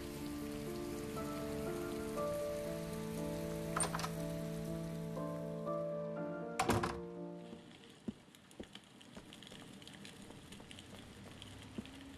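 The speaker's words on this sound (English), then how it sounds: "It's raining." Steady rain in the video game Heavy Rain patters on a surface with occasional heavier drops and thuds, over a faint sustained musical hum that fades partway through.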